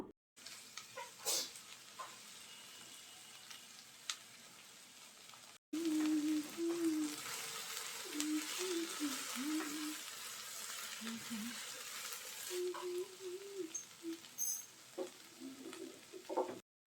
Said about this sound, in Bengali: চুলার আঁচ অল্প রেখে আমি ভেন্ডিটা ভেজে নেব।